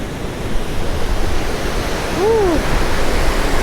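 A powerful waterfall roars as a loud, constant rush of water, with a brief whistle-like sweep partway through.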